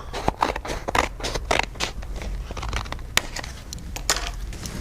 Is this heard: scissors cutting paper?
yes